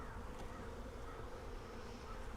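Honey bees from a package colony hum in a steady, dense drone during a week-four hive inspection, close by and continuous with no pauses.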